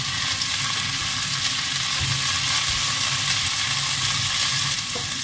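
Chopped parsley and onion sizzling and frying in a pan, stirred continuously with steady loud crackling close by and a few scraping knocks, no voices.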